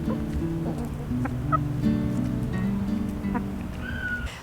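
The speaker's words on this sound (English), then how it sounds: "So I have 4 chickens in my little backyard" Four backyard chickens on a small homestead cluck and murmur softly, with short overlapping calls and one higher squawk near the end over a steady outdoor background.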